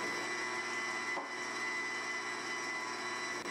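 Electric stand mixer running on low, beating eggs into creamed butter and sugar for a cake batter: a constant close motor whine with a steady hum, briefly dipping once, no voices.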